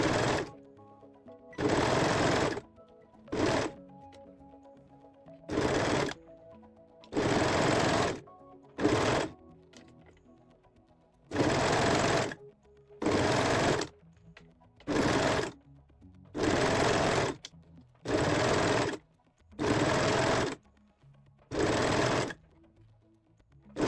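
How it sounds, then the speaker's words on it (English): Serger stitching elastic for swimwear straps, running in about a dozen short bursts of loud mechanical whirring separated by quiet pauses, close and alone without talk. "I am using the elastic to make the first method with the serger"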